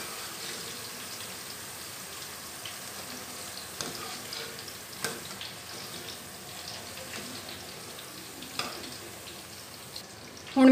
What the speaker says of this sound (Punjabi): ਅਤੇ ਇਹਨੂੰ ਵੀ ਫਰਾਈ ਕਰਾਂਗੇ।